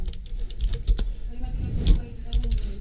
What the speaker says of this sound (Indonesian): Kita ketik tanda kutip lulus